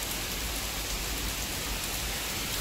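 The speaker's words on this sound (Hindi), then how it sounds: "पूरा घमासान बारिश की तरह," Dense, steady downpour of heavy rain hissing continuously on surfaces, with no pauses or voices.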